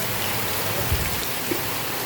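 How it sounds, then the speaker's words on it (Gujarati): Heavy rain pours down on a village in Rajkot in a steady, dense, continuous hiss, close and even throughout, with no voices. "વરસાદ ઘણો પડતો એટલે વરસાદનો વિડીયો બનાવું છું."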